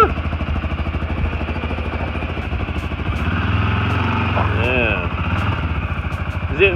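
A 2015 CFMOTO CFORCE 500 ATV engine runs steadily in reverse, a close, rough mid-pitched drone with a slight rise partway through, while a person talks over it.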